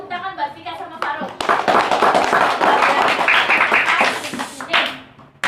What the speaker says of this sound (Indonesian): Teman-teman berikan tepuk tangan buat Vika sama Faruk.